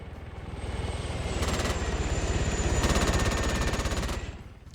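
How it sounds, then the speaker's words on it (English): A helicopter's rotor thumps steadily and loudly throughout, with bursts of rapid gunfire layered over it in a game battle. "Come on, helicopter! Do your thing!"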